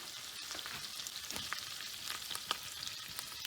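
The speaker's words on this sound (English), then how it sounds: "the next step is going to be to add the wine" White wine hits hot oil with calamari tentacles, parsley, capers and olives, giving a steady crackling sizzle with small pops, close and moderately quiet, with no voices.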